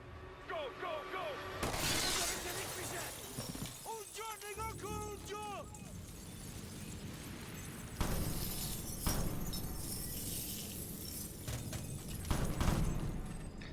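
Slowed-down gunfire in the video game Ghost Recon Future Soldier lands as deep, booming, stretched shots. Sweeping tonal effects and a couple of loud impacts come with it, all at moderate level.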